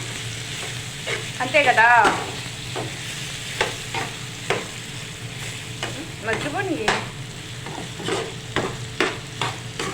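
Brinjal (eggplant) frying in hot oil with a steady sizzle and intermittent stirring clatter; a voice speaks briefly over it near the start and midway.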